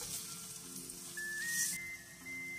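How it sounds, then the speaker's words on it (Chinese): Sophora flower pancake batter sizzles quietly in an oiled frying pan, a soft, steady crackling hiss with a faint whistle-like tone running through it. "平底锅加入食用油，涂抹均匀，舀一勺面糊倒进去，"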